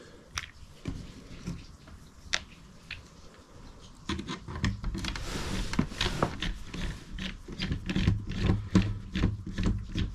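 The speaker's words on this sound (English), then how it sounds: "We're going to undo this access door here." A camper travel trailer's access door is unfastened and taken off with scattered taps, scrapes and rubbing knocks, quiet at first and then busier and louder as the panel comes free.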